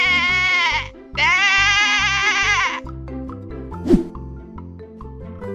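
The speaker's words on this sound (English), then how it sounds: "Sheep." A cartoon sheep in a pool lets out two long, loud, wavering bleats over bouncy background music, followed by a single splashy plop.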